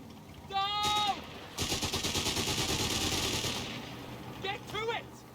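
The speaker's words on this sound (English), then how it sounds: "That HMG's firing on us." A heavy machine gun fires a sustained rapid burst in the video game Company of Heroes 3, mid-distance and steady, with short bleat-like tonal calls before and after it.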